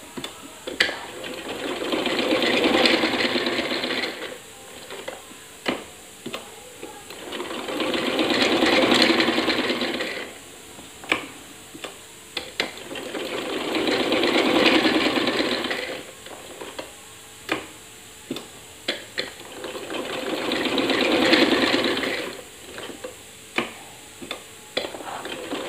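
A sewing machine stitches a salwar hem in four long, rhythmic runs of rapid clatter, each separated by pauses filled with faint clicks and handling of the fabric.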